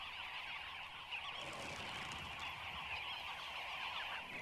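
A large flock of birds at a watering place makes a dense, continuous din of overlapping honks and calls, loud and unbroken throughout.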